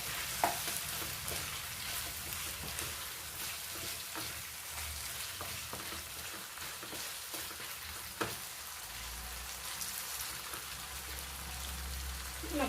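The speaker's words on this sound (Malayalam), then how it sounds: "നന്നായിട്ടൊന്ന് മിക്സ് ചെയ്യാം." Chicken curry with yogurt being stirred in a pan, a soft steady sizzle with occasional scraping clicks of the spoon, fairly quiet and continuous with no voices.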